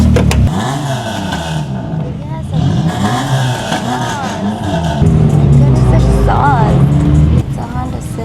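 A Honda Civic drives and revs loudly at a late-night street meet, the engine climbing and falling in repeated surges close by, with crowd chatter and other cars mixed in.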